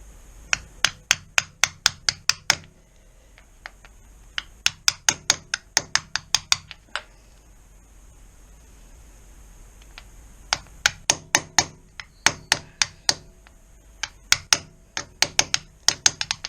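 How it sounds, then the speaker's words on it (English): An 18mm spark plug spanner tapped onto an oil seal to seat it on the balancer shaft of a 1988 Kawasaki ZX-10B motorcycle, bursts of rapid sharp metallic taps in quick runs separated by pauses, close and crisp. "I've got an 18mm spark plug spanner, and that goes over nicely. So it's a question of just seating it."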